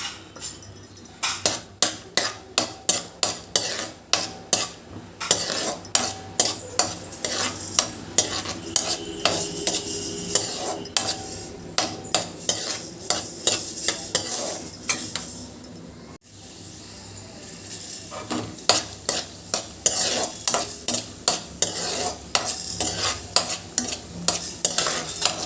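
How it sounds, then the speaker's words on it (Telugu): Cashew nuts frying in two tablespoons of ghee in a pan, stirred with a utensil that scrapes and clinks against the metal in a steady, fast rhythm over a continuous sizzle, close and loud throughout. "జీడిపప్పుని ఫ్రై చేసుకుందాం."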